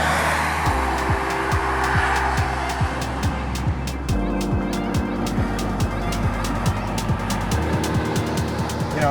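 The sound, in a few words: Audi with 2-liter TFSI turbo engine, quattro, driving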